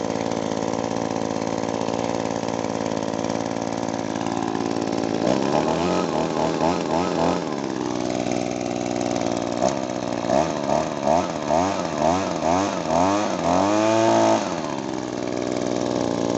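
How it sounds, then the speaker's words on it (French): An Echo PB-2520 leaf blower's small motor drones steadily up close, then its pitch wavers and surges in repeated revving pulses before it settles back. "Il est top ce souffleur."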